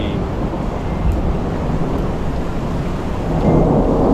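A thunderstorm with heavy rain pouring steadily and deep thunder rumbling throughout, loud and dense, swelling slightly toward the end with no voices.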